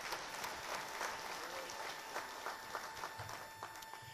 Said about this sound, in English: give a great round of applause to Great Western